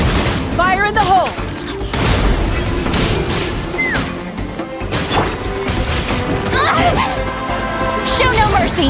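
Video game explosions and crashing impacts from a Final Fantasy XIV raid boom out loudly amid dense, continuous battle effects and chiming tones, with voices heard over the din.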